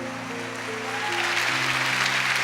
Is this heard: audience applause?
yes